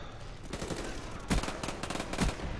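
Gunfire in a first-person shooter video game: quick bursts of shots with two heavier bangs standing out, steady and fairly loud throughout with no speech.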